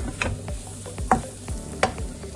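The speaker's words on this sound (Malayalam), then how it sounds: "ഇനി ഇതെല്ലാം കൂടെ ഒന്ന് ഇളക്കി ഈ സവോളയുമായിട്ടൊന്ന് മിക്സ് ചെയ്യാം" A spoon stirs spice mix into onions in a sizzling pan, several scraping strokes in a loose rhythm over a steady frying hiss, close and clear with no talking.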